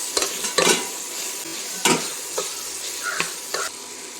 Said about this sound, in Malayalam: ഇതിലേക്ക് 4 സവാള അരിഞ്ഞത് ഇട്ട് കൊടുക്കാം. ഇനി നമുക്കിതൊന്ന് വഴറ്റി കൊടുക്കാം.